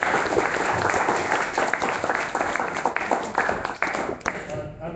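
A crowd at an Iowa rally applauds in a dense, continuous wash of clapping that swells and thins slightly, with voices mixed in throughout.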